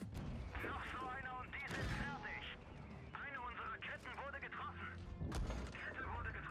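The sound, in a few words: tank gunfire in video game World of Tanks Blitz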